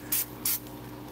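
Two quick hissing sprays from an aerosol cooking spray can, close and fairly loud, each lasting a fraction of a second.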